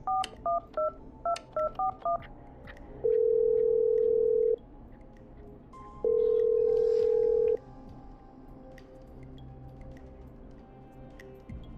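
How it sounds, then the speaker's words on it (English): Telephone keypad tones in the video game Killer Frequency: a quick run of about ten electronic dial beeps, then two long steady ringing tones separated by a pause, with faint background hum. "Okay, I'm dialing."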